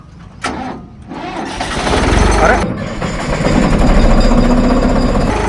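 A loud, raw tractor engine with its silencer pipe removed roars into a harsh, unmuffled idle with rough knocking, close by, while a man briefly exclaims over it.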